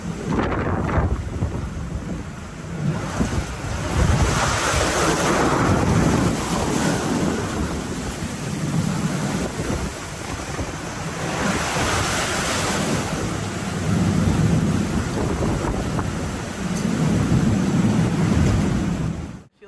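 Huge ocean waves surge and crash in the Drake Passage while strong wind roars across the microphone, a loud, continuous rumble of swells rising and falling for the whole stretch.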